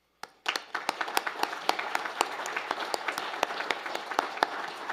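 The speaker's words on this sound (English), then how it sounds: "Big round of applause for yourselves." Applause rises from the audience at a public meeting on the future of drinking water in the Central Sands, with distinct individual claps building into a steady, moderately loud ovation.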